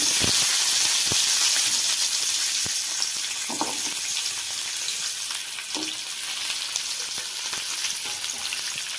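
Stuffed okra (bhindi) shallow-frying in hot oil in a pan, a steady close sizzle and hiss throughout with occasional stirring clicks.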